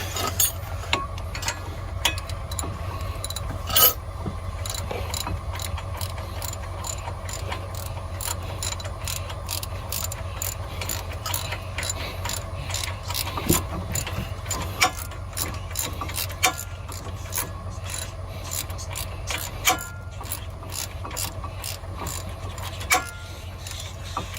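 Ratchet wrench clicking steadily while tightening a front brake bolt on a 2010 Ford Escape, a long run of close, crisp clicks over a low background hum, with no talking.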